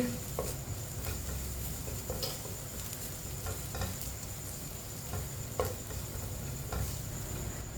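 Finely chopped green chillies cook in a hot pan for aloo tikki, giving a steady close sizzle with scattered light crackles and pops throughout, and no one talking.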